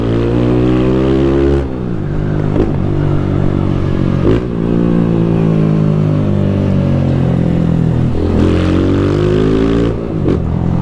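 Modified small motorcycles, a Honda Titan 160, Sahara 300 and Mix 150 with loud aftermarket exhausts, rev hard in repeated rising and falling bursts, close and loud, with rattly pops between pulls and no talking.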